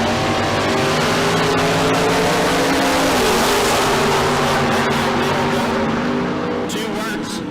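A Corvette Roadster and a 1976 Plymouth Arrow Roadster drag racing at Tucson Dragway, engines roaring loud and close with rising revs and a tire squeal as they launch, with a track announcer talking over the noise.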